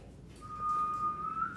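Someone whistles inside an old, long-abandoned house, a single thin sustained tone held for about a second over faint room noise.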